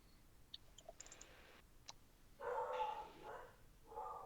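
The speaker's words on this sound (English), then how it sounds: "You hear dogs barking in the back, because it's starting to get dark" Dogs barking in the background of the game Godfall as dusk falls, a few faint distant barks mixed with small clicks in quiet ambience.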